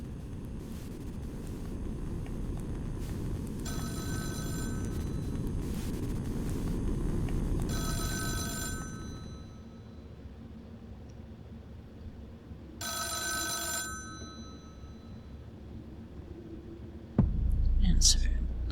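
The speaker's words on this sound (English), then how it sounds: "My troubled sleep is broken by the ringing of my phone." A phone rings in a quiet bedroom at night, three separate bursts of electronic ringing spread across the stretch, set against a low ambient hum and soft murmuring.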